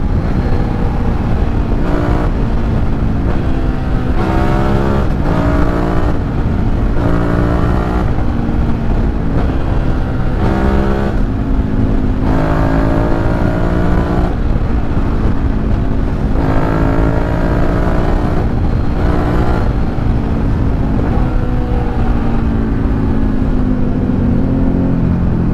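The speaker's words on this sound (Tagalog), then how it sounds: "Grabe, lakas ng motor, no?" A loud SVT 650x motorcycle fitted with a new exhaust revs and accelerates repeatedly. The engine pitch rises and drops through gear changes, with brief throttle lifts between pulls, heard up close throughout with no voices.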